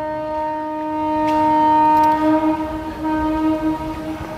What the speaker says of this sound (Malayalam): Oh the train.